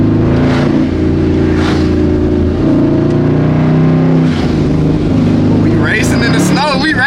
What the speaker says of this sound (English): Racing in the snow, we racing in the snow.